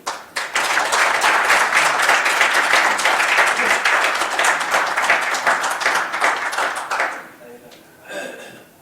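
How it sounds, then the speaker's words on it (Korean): Steady applause from an audience welcoming the day's lecture speaker, loud and dense for about seven seconds, then fading out into near silence with a brief murmur at the end. "오늘의 연사인 성당근 동무를 힘찬 박수로 모시겠습니다"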